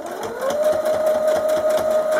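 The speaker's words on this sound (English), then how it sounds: "the sewing machine does all the work" A sewing machine stitches fabric for a small hamster bed, a fast close mechanical whir with rapid rhythmic needle clatter that starts up and holds a steady loud hum.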